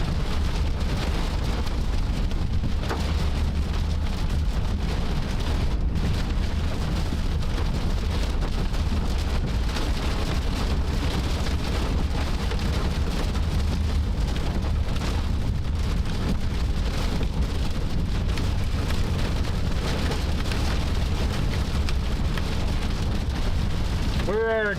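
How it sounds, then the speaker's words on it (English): Steady heavy rain pours throughout a storm chase in Nebraska, a dense continuous hiss with gusty wind buffeting close to the microphone and occasional rumbles, unbroken for the whole stretch. "We're trudging through the rain."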